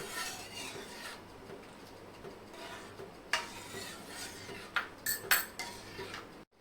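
Spoon stirring kulfi milk in a pan as cornflour slurry is added, faint scraping and soft swirling, with a few sharper clinks of metal on the pan near the end.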